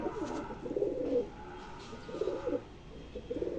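Pigeon cooing repeats in low, soft rounded phrases, about three bouts over a few seconds, with no voices.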